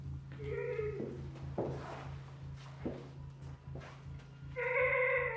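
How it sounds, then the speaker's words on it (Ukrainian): A cat meowing nearby in a quiet residential building during a crime investigation, a drawn-out cry at the start and another clear meow at the end, with footsteps and shuffling between and low hum beneath. "Це кіт чи що?"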